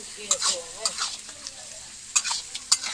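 Pumpkin curry frying in a pan with ground spices, a bright hissing sizzle broken by several sharp scraping strokes of a spatula, close and fairly loud, with no voices.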